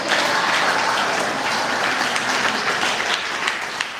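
Sustained audience applause fills a children's culture camp hall in Jabalpur, a dense steady clatter of many hands clapping at close range for the whole stretch, with no voices above it.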